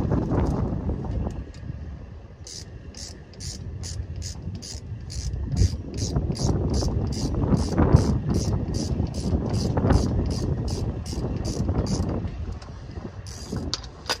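Metallic ratcheting from a socket wrench while removing the drive shaft from a 1973–87 Chevy K10 truck, a steady series of rapid clicks under background rumble and wind noise.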